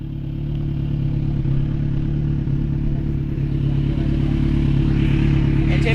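A 2023 Kawasaki Z1000R with a Drift full exhaust idles and revs close by, a loud, steady, deep engine drone with a faint mechanical clatter and a slight rise in pitch toward the end.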